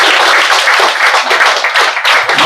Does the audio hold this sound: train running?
no